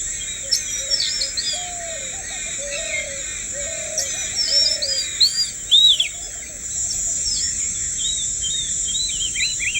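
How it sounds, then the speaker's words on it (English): A male magpie robin in the Indian wild calls and sings in repeated short whistled phrases and chirps, moderately close, over a steady high insect drone and other faint bird calls. "The male magpie robin also makes himself conspicuous with a constant calling and singing."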